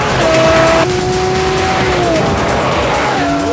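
A Lamborghini Murcielago LP640 roars loudly at high speed, its engine note climbing and shifting steadily across the whole stretch with a dense, constant rush of road and wind noise.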